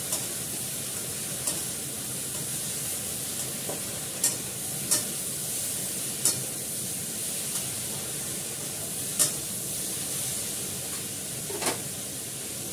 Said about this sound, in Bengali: শুধু ভাজাই হবে, এক ফোঁটাও জল পড়বে না।